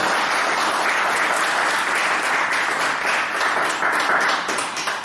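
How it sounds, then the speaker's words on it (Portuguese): An audience applauds a guest speaker at a talk on the brain and consciousness, a steady, dense clapping that holds evenly for about five seconds with no voices on top. "Un aplauso, por favor, para nuestro ponente."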